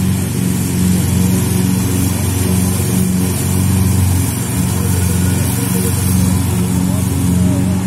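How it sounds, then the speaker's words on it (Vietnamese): A lawn mower runs on a school campus in Taiwan, its engine droning loud and steady with a constant hum throughout, close to the listener. "đây là máy cắt cỏ trong trường"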